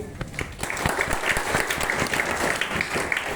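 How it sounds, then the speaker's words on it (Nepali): Loud, dense applause from an audience at a business meeting, steady clapping filling the whole stretch without a break. "उहाँहरूको लागि एकदम जोरदार ताली"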